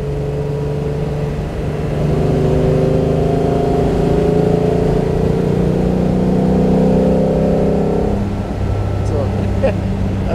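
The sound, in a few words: 1957 Mercedes 300 SL Roadster accelerating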